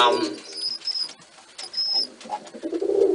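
A dilute-colored pigeon coos softly and intermittently nearby, with low murmuring calls rising and fading amid faint background noise and a brief bit of talk at the start.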